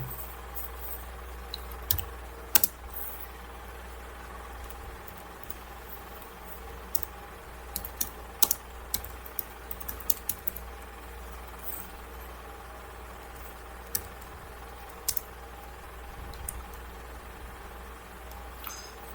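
Scattered clicks of code being typed on a computer keyboard, faint and irregular, set against a low steady background hum with no talk.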